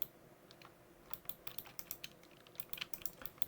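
Computer keyboard keys tapped in a quick, uneven run of light clicks during a game session, close and clear with no talking.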